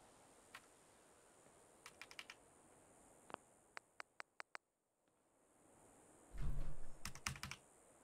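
Computer keyboard keys being pressed during a Fallout 4 game session, scattered sharp clicks, a quick run of evenly spaced taps midway, then a burst of louder clatter near the end over faint hiss.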